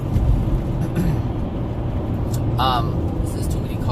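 Traffic from many cars makes a dense, steady low rumble that stays close and continuous, with a brief higher squeal partway through.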